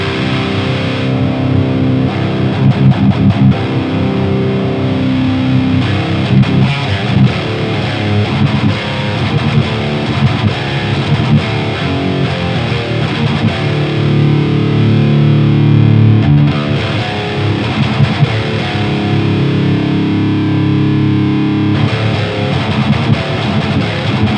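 Electric guitar played through a Bogner Uber Ultra amp, heavily distorted riffing with thick low end, continuous and loud for over twenty seconds with no talking.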